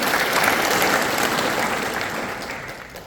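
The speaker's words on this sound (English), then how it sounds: "Graduates, please give them a round of applause in recognition of their effort." Graduates at a Fort Sam Houston combat medic graduation clap for their instructors, a broad, steady wash of applause from a large audience that gradually fades toward the end.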